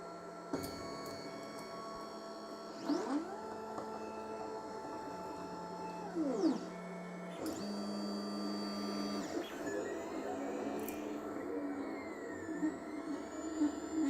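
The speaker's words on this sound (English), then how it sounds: "press on print, and it will start up the fan in here, and it will start to heat the hot end up to 200 degrees" A Geeetech E180 3D printer starts a print, its fan running while the hot end heats to 200 degrees: a steady close whir with rising and falling motor whines and brief clicks.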